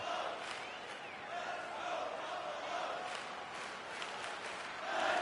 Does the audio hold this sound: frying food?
no